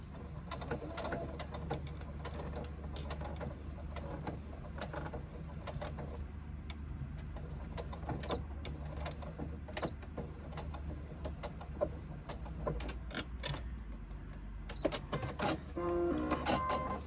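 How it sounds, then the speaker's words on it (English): A sewing machine runs in short clattering bursts while stitching fabric for a baby sling, its rapid mechanical ticking stopping and starting close by. "Alright, so I've just stitched between the areas that we've done before."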